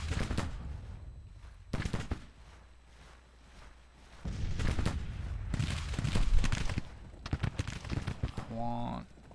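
Scattered musket volleys and bursts of gunfire crackle in a Civil War battle video game, loud irregular clusters separated by quieter gaps, with a voice briefly heard at the very end.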